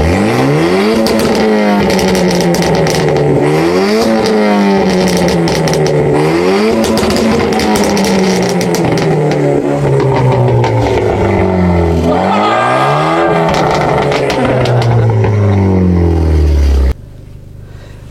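A Renault Clio RS Trophy Stage 1 with 260 hp revs its engine hard through repeated climbs and drops in pitch, loud and close, with no talk, then cuts off abruptly near the end.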